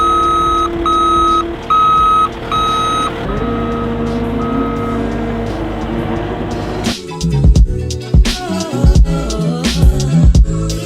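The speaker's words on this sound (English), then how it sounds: "So let's pull off the skid steer and get to it" A skid steer reverses with a loud, evenly spaced series of backup beeps over its engine, then heavy clanks and thuds of the machine working take over.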